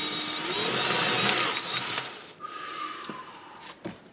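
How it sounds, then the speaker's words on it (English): A power drill bores into the center of a clock part in a repair shed, a loud whining motor that runs steadily for about two seconds, then drops to quieter, intermittent bursts and short clicks. "So I'm just going to drill the center of this."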